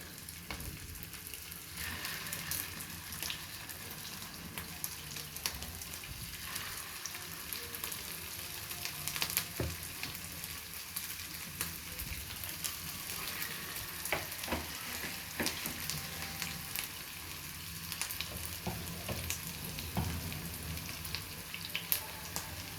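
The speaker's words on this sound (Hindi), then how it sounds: "अभी हम इसमें फ्राई करने जा रहे हैं शैलो फ्राई अपने कबाब" Beef seekh kebabs shallow fry in hot ghee in a pan, giving a continuous soft sizzle and crackle with scattered small pops, quiet and close, no voices.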